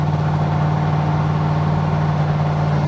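A twin-turbo LS engine in a Nova wagon drones steadily while cruising down the highway, a close, even hum with a strong low tone and no talking.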